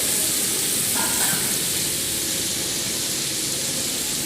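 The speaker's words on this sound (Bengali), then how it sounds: "এইবার মাংসটা ফ্রাই হচ্ছে বিরিয়ানির জন্যে।" Meat frying for biryani, a steady dense sizzle and crackle of hot oil that holds loud and even throughout, with a faint brief tone near the start and no talking.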